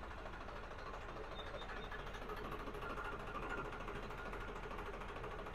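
An Eicher 557 tractor in creeper gear runs at a steady low drone, a faint continuous mechanical hum with no talk over it.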